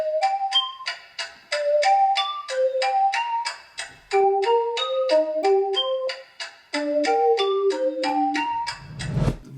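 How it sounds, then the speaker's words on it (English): Two bright synth melodies from a song play in stepping, bell-like notes over a steady ticking clock effect, loud and close with no voices, ending in a low rumble. "These are the main two melody files here over top of the clock sounds,"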